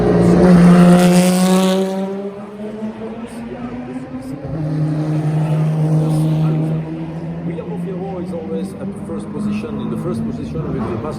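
Historic race cars, among them a Maserati 300S, roar along the Monaco street circuit, engine notes rising and falling as they pass and fade, with a commentator talking over them.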